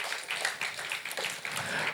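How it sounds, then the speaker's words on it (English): An audience claps in a steady, moderately loud round of applause that continues throughout, with no voices on top. "let's give on a huge round of applause"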